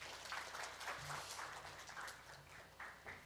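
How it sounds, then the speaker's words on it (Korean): Audience applause at a Windows 8 application developer talk, a steady wash of clapping across the whole stretch, fairly soft and somewhat distant, with no talk over it. "박수 한번."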